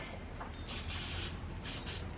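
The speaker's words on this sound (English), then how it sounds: "Let me just get it sprayed." Cleaning spray in a barn setting hisses in two short bursts from a spray bottle, close and fairly quiet, with no talking.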